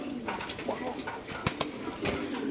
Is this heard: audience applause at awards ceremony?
no